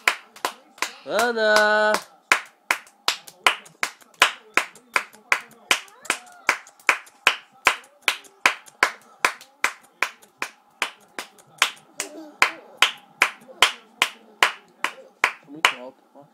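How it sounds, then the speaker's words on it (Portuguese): Hands clap in a steady, even rhythm, around two claps per second, close and crisp for most of the clip, with a voice shouting briefly at the start. "Bate palma"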